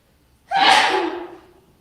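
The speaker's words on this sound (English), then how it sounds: "I'm gonna sneeze." One sudden loud human sneeze bursts in close to the microphone and trails off within about a second, with quiet before it.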